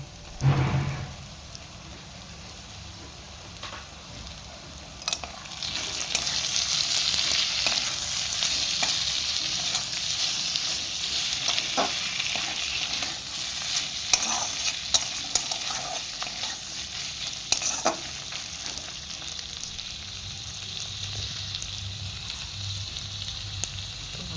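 Spices and chopped tomatoes frying in a pan for a chicken fry, a steady close sizzle with scattered clicks and scrapes of stirring throughout.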